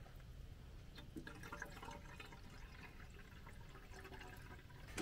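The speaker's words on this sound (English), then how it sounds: "So we're just going to add some more water to it." Water pours into the coolant reservoir of a Branson 5520c tractor, a quiet, steady trickling and splashing stream of liquid with faint gurgles, heard up close without talk.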